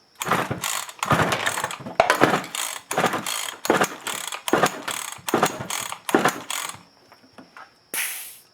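Repeated pull-start cranking of a Husqvarna 350 chainsaw during a compression test, about ten loud rasping recoil pulls in a steady rhythm, close up, followed by a short hiss.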